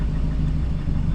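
A Volvo car engine idles at 750 rpm, a steady low rumble with a faint ticking texture, continuous and fairly close, no voices.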